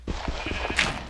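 A baby cow in Minecraft lets out a short, nasal bleating moo, close and clear, lasting about a second with no talking over it.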